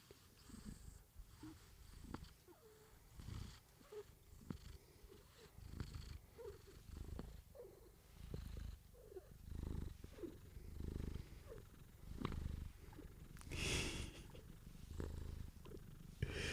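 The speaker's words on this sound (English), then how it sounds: "Oh, he's purring, listen." Quiet, close purring of a contented cat being stroked, soft rhythmic breathy pulses repeating steadily over about sixteen seconds with faint handling noises.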